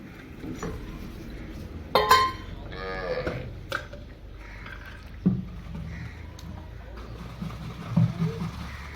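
A Nili dairy buffalo, a 16–18 kg milker offered for sale in Pakistan, gives a loud drawn-out moo early on, with a few sharp clanks and murmuring voices over steady low background noise.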